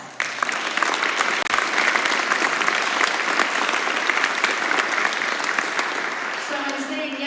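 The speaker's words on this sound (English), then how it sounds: "Give yourselves a round of applause." Audience at a candidate accountability forum breaks into sustained, even applause lasting several seconds, with a voice emerging faintly toward the end.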